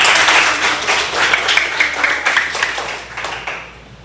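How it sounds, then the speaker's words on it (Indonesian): A classroom of students gives a round of applause during a lesson, producing a loud, close burst of dense clapping that holds steady and then fades out toward the end. "tepuk tangan buat kalian semua"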